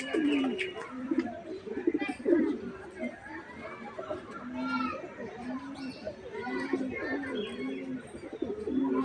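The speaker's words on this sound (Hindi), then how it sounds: "ये है सफ़ेद कबूतर," A white dove at Kamati Baug Zoo in Vadodara coos in soft repeated low calls under steady crowd chatter and children's voices from the busy grounds.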